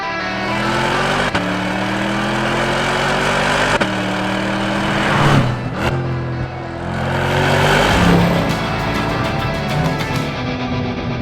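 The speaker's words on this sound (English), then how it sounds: "deep-chested V8 sound" A deep V8 car engine runs loud and close throughout, with steady low harmonics rising and falling as it revs, swelling twice to higher-pitched peaks before settling back.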